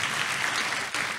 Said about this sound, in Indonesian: Tepuk tangan dulu yang meriah sekali lagi buat Yesus